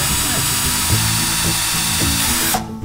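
A power drill drives a screw into wood for a cat-proof window screen, giving a loud, steady, close whine with slight pulsing that stops abruptly near the end.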